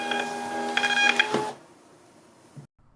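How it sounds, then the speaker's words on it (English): A NefLaca NL-N41 direct thermal label printer feeds out a 4x6 label in a quick, loud mechanical whir lasting about a second and a half, then stops with a faint click before silence. "I'll take you guys back over so that you can hear the printer print, how loud it is, on how fast it prints"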